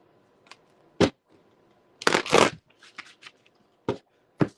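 Tarot cards being shuffled by hand, short crisp riffles and snaps in separate bursts, including one longer flurry, close and clear in an otherwise quiet room.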